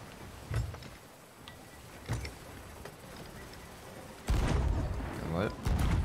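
Booming ship cannon shots in the video game Sea of Thieves thud at intervals, followed by heavier rumbling blasts. A voice speaks over the gunfire.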